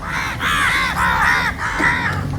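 Several crows caw in repeated harsh calls at sunset by the backwaters of Kumbalangi, Kerala, loud and close with no talking.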